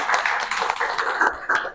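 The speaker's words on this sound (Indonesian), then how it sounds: "Luar biasa, tepuk tangan anak sekalian." Children in an Islamic religious education classroom clapping together, a dense, steady patter of many hands close by for under two seconds, with a faint voice briefly underneath.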